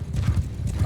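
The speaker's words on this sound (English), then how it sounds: "Get out of my way, horse." A horse galloping in the Mount & Blade II: Bannerlord video game, rapid heavy hoofbeats thudding in a continuous rolling rhythm, close and loud, with no voice over them.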